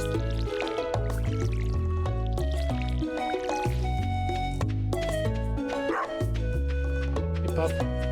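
A dog barks in the farming video game Stardew Valley over busy, continuous game music that stays loud throughout.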